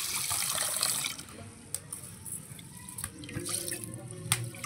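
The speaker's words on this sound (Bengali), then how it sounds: "চালটাকে একটু ভিজিয়ে রাখবো জল দিয়ে" Water running and splashing as it is poured over biryani rice to soak it in a village kitchen, a steady close pour with a few drips near the end.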